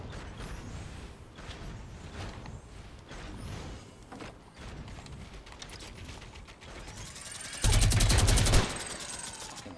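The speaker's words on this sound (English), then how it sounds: "I am gonna light this guy up with a minigun." Minigun fire in Fortnite Battle Royale, a dense rapid rattling burst near the end after several seconds of scattered mechanical clicks and game gunfire, loud and close.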